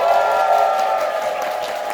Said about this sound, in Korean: 제가 손을 이렇게 하면 환호와 함께 미친 듯이 박수를 칩니다